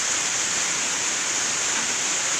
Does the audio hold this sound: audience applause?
no